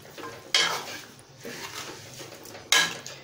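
Chicken karahi is stirred in a pot, with two sharp scraping clanks of a utensil against metal over a faint sizzle, close and without talk.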